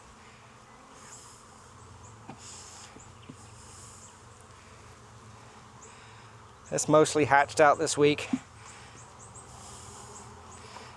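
Honey bees hum softly around an opened backyard hive during a virgin queen installation in Jacksonville, Florida. A person talks nearby, and a brief loud burst of buzzing and handling noise rises midway before the hum settles back.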